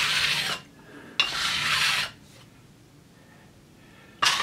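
A blade is sharpened on diamond stones in a workshop, giving three bursts of dry rasping strokes, close and fairly loud, separated by quiet pauses.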